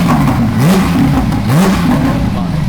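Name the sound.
Porsche 992 GT3 engine revving with Armytrix exhaust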